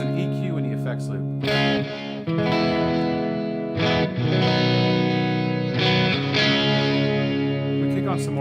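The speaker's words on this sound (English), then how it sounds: "Now you can kick in some pedals to get some more grit." Electric guitar runs through a Helix LT with gritty overdrive pedals, playing distorted sustained chords and riffs with chorus-like shimmer and reverb, loud and continuous with brief pauses between phrases.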